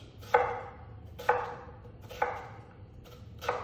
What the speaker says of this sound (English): we of course chopped half an onion